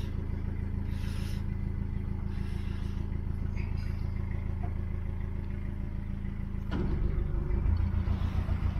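Narrowboat diesel engine chugging steadily at idle on a canal, then throttling up with a deeper, louder rumble toward the end, close and continuous with no talking.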